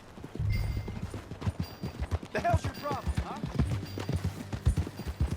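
Horse hooves clip-clopping in Red Dead Redemption 2, a fairly close, rhythmic run of hoofbeats throughout, with a brief whinny-like cry partway and someone speaking over it.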